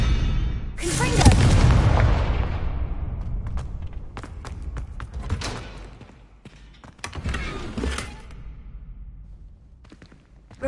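Confringo spell blast in the Hogwarts Legacy video game, a loud fiery boom with a lingering rumble, followed by scattered crackles and smaller impacts that fade out.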